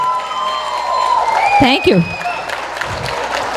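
Audience applause after a parai drum dance performance at a Tamil cultural gathering, a short burst of clapping from a crowd with a voice speaking over it.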